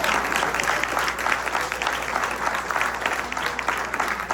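Audience applause at a Telugu cultural group's tenth-anniversary event in Seattle, a steady, dense clapping from a full theatre crowd that carries on evenly for several seconds.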